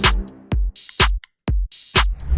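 Dry, unglued drum kit groove: loud, punchy kick and snare hits alternate in a steady rhythm with bright cymbal bursts, each hit cutting off sharply with gaps of silence between strikes.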